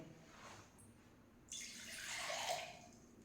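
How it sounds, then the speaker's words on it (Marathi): Quiet room tone, then water starts pouring steadily into a cup, a soft splashing trickle that grows fuller over a couple of seconds. "पाणी टाकते"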